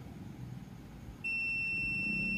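A steady electronic continuity beep from a multimeter testing a shorted amplifier board starts abruptly about halfway through and holds on, loud and unbroken, over faint background noise.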